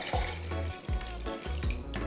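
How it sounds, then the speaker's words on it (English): Coquito, a Puerto Rican eggnog, pours from a small spouted container in close, gurgling bursts of liquid that start and stop several times, with no talking. "I'm gonna try to pour it in here first since this has a little spout"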